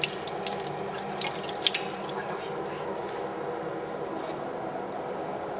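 Tap water runs steadily as filter paper is rinsed under it during a Lassaigne test, a constant, moderately quiet splash with no talking.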